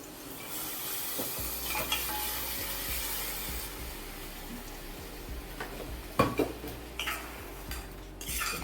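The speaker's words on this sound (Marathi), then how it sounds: "सगळं छान असं हलवून घेऊया" Mutton frying in a pan is stirred with a utensil, giving soft scraping and occasional clinks against the metal over a low, steady sizzle.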